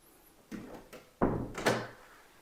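A coat closet door in a new single-story home opens with a few soft knocks and a louder thunk, followed by a brief rattle, close and fairly quiet.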